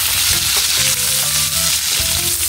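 Pork fat (taba) frying in a hot pan with ginger, a steady loud sizzle and crackle filling the whole stretch without a break.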